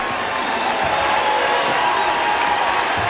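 A basketball arena crowd at a 1991 Indiana vs Vanderbilt college game roars and applauds in a dense, steady wash of noise that holds for a few seconds with no voice on top.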